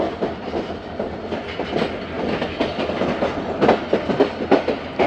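A passenger train hauled by an HGMU-30 diesel locomotive, number 8202, on the Khyber Mail route in Pakistan, rolls past with a steady rumble and rhythmic clickety-clack of wheels over rail joints, loud and continuous without voices.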